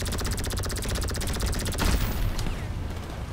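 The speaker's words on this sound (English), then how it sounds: "I don't know where bullets are coming from." Rapid automatic gunfire during a Super Yacht heist mission in GTA Online, a dense burst of shots that stops abruptly and leaves a booming tail and lingering echo.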